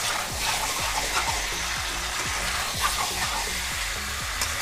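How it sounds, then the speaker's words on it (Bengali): Chicken with chopped capsicum being stirred and sautéed in a pan, a steady frying hiss broken by regular scraping strokes of a spatula, close and without talk. "সেই ক্যাপসিকাম কুচি করে দিয়ে দেব মাংসের মধ্যে। দিয়ে আবারও বেশ খানিকক্ষণ খুব ভালো করে কষাবো।"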